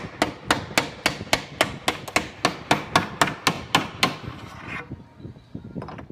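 Roughly a dozen sharp, evenly spaced taps ring out as a hand-cut wooden joint between two wooden boards is knocked together, each knock crisp and close, slowing and softening into quieter bumps near the end. No one speaks.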